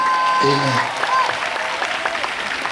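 Congregation at a Swahili Sunday church service clapping together, a dense steady patter of many hands with a few voices and a short sung or called phrase over it, moderately loud throughout.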